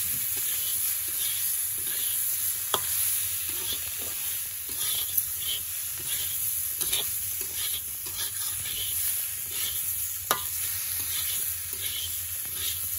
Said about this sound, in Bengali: এরপরে ধনের গুঁড়ো, হলুদ, লঙ্কার গুঁড়ো, ধনের গুঁড়ো দিয়ে নেড়ে নেওয়া হচ্ছে।